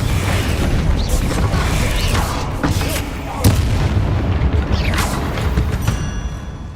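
Booming blasts from the Confringo explosive spell in the Hogwarts Legacy video game, several loud bursts in a dense, continuous mix of game effects and sound.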